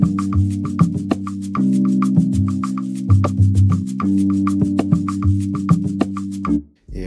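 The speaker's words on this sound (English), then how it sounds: "Next thing I added was these congas, which were played live" Congas played live by hand, with rapid hand strikes over a full, steady low bass beat; no voices.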